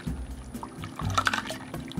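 Cold water is poured into a Hot Wheels Color Blaster toy car playset, making a soft, close splashing and trickling sound with a few small plastic clicks.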